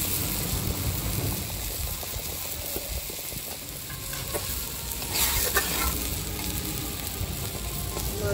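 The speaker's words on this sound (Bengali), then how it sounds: "এবার আমি মাছগুলো দিয়ে দিচ্ছি।" Chanda fish hit a hot pan with boiled potato and stems, crackling in a steady, close sizzle with occasional stirring scrapes and a faint high electronic whine in the background.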